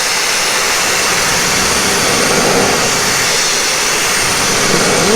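Sandblasting equipment blows a constant, loud rush of compressed air while a narrow boat is being blasted, a steady broadband hiss that holds unbroken throughout with no voices.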